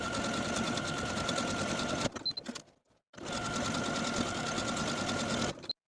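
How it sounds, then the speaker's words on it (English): A home sewing machine stitches buttonholes into the back left bodice of a jumpsuit, whirring steadily and close up in two long runs separated by a brief pause, with no voices. "Now I'm going to take this back left bodice piece to my sewing machine and sew each of my buttonholes."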